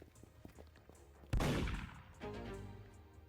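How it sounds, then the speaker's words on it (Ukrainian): A single loud gunshot in the Roblox game Be NPC or Die bursts out over quiet background noise, then trails off, with another softer rumble of fire shortly after. "Мій напарник постійно стріляє"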